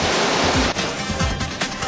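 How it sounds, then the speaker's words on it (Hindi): Rainwater and debris rush down the Rishikesh–Chamba highway after heavy rain, making a loud, continuous roaring wash with no voices. "पूरे रास्ते पर पानी और मलबा बह रहा है"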